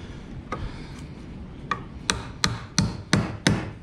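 A hammer drives a nail during a skid house build, with a series of sharp, separate strikes that start light and sparse and grow louder and quicker toward the end.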